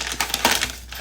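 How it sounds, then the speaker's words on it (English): A paper clip pops off a plastic makeup bag during unboxing, a short burst of crinkling and clicking rustle, close and fairly loud, lasting about a second without speech. "the paper clip came off"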